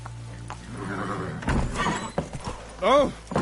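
Roach, the horse in The Witcher 3, moving at pace with a brief whinny near the end, heard among game sounds and spoken voices.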